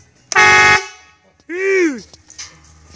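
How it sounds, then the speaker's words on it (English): Air horns on a 1985 Titan RV give two loud, close blasts: a short, brassy steady blast, then a second one after a pause whose pitch rises and falls. Faint background noise lingers between them. "I got the air horns working though,"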